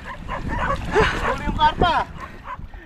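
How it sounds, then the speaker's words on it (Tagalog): Several dogs bark and yip in bursts near a fish pond with carp, mixed with excited whimpers, while people talk over them close by. "Mga aso na."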